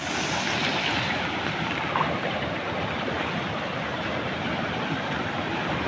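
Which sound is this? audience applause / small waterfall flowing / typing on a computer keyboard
small waterfall flowing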